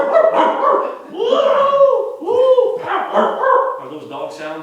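A human voice imitates a bunch of dogs barking, giving a rapid run of yips, woofs and whimpering howls up close and loud, with no other sound behind it.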